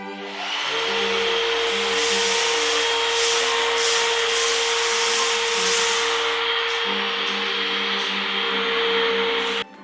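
A Bosch GAS 18V cordless vacuum cleaner starts up and runs with a loud, steady whine while sucking up scattered debris, rattling and scraping bits over the motor tone before it cuts off at the end.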